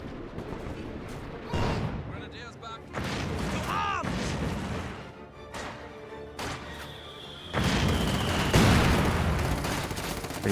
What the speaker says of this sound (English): Pretty painful mortar hit.